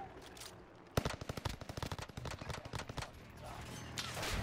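Rapid automatic gunfire from a video game rattles in a fast burst of sharp, evenly spaced shots for a few seconds, fairly loud and close.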